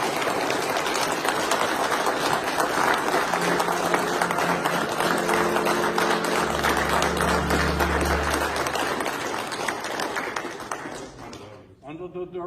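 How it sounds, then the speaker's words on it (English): An audience at a Grand Royal Arch Chapter annual gathering gives a sustained round of applause, a dense wash of clapping lasting around ten seconds before tapering off, with a voice briefly heard beneath. "greet him with a hearty round of applause"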